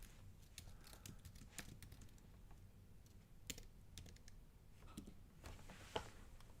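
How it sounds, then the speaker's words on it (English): Quiet, rapid keystrokes on a computer keyboard click along in irregular bursts and short pauses, soft and close with light room noise beneath. "Yeah, nice typing"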